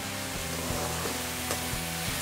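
Chopped carrots and beans go into a hot oil pan for a potato saagu side dish, giving a steady close sizzle with faint stirring scrapes and no talk.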